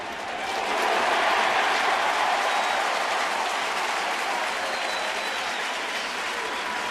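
A stadium crowd at a Canadian football game rises to its feet and applauds, a broad roar of clapping and cheering that swells in the first second and holds steady, loud and continuous.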